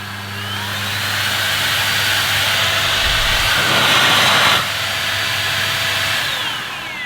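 A Henry Quick corded vacuum cleaner with sealed suction runs on boost with a continuous whooshing roar and high whine, briefly surging louder and rougher midway before settling back.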